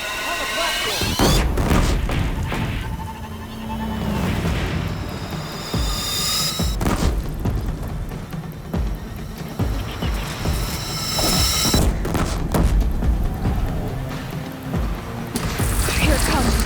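Repeated heavy cannon booms in Horizon Zero Dawn pound out at irregular intervals over dense combat noise and music, loud and close, with crashes and impacts mixed in.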